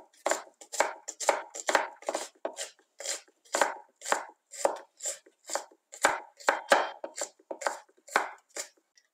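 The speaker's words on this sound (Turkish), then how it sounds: "küçüğe yakın bir kuru soğanımızı yemeklik olarak doğrayıp tenceremize alıyoruz" A knife chops dry onion finely on a cutting board in a home kitchen, a fast steady run of crisp close taps and thuds about twice per second, with no talk over it.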